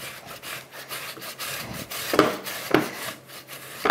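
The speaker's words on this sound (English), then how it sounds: "I've got some boiled potatoes and I'm just going to grate those" Boiled potatoes rubbed against a grater in repeated rasping strokes, close and fairly loud, with sharper scrapes now and then, and no voices.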